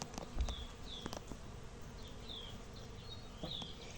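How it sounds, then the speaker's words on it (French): Bees buzz around comfrey in a vegetable garden in early May, with faint wavering hums drifting over steady outdoor background noise, plus a few soft bird chirps and light rustles. "il y a des abeilles partout"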